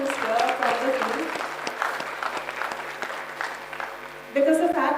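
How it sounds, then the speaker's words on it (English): A room full of people at a government WhatsApp chatbot launch event claps in sustained applause, steady and close, swelling again near the end. "can we just have a big round of applause for everyone who's here from the field?"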